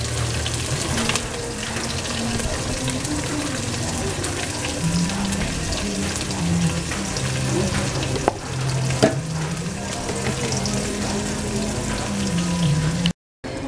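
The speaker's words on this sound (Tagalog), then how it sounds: "Igisa ko na nga." Pork binagoongan sautéing in a pan, a steady loud sizzle with stirring scrapes running throughout, ending in a brief cutoff.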